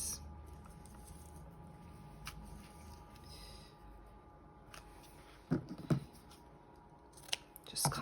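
Scissors snip lengths of decorative Beebeecrafts trim, with soft rustling in between and a few sharper cuts toward the end, close and fairly quiet.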